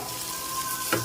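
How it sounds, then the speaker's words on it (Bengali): Paneer filling with ground coriander and cumin fries in hot oil in a pan, a brief, steady close sizzle with a soft stir or scrape near the end. "কিছুক্ষণ ফ্রাই করে নিচ্ছি"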